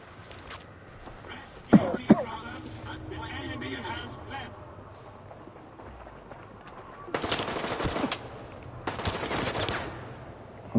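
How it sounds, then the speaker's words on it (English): Automatic gunfire bursts in the shooter game S.T.A.L.K.E.R. 2, with two sharp close shots early on and later two longer, loud rattling volleys over a low ambient background. "Who is shooting?"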